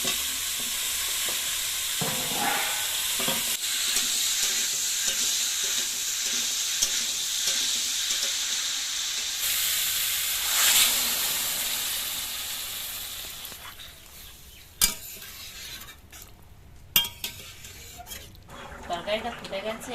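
Potatoes and pumpkin sizzle in hot oil in a pan while being stirred, a steady loud frying hiss with scraping and clattering stirs, later settling into quieter bubbling with occasional clinks.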